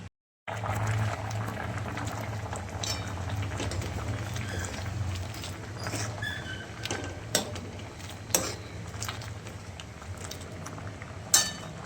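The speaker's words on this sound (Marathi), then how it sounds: "मस्त उकळी आलेली या या सांबारला" A pot of sambar with drumsticks boils on a gas stove, a low steady bubbling rumble that holds throughout, broken by a few sharp metallic clinks of utensils.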